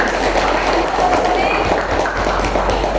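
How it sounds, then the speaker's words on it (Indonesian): A classroom group applauds a yellow team after a presentation, producing loud, steady clapping mixed with murmuring voices over a low constant hum. "tepuk tangan untuk kelompok kuning"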